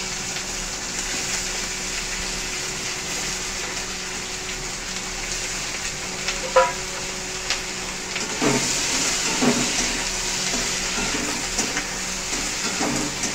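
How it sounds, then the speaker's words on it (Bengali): Onions fry in a pan with bay leaf and whole spices for a chicken dish. A steady, even hiss of sizzling oil continues throughout, with a few brief clinks and scrapes partway through. "ফুটানো পেঁয়াজ"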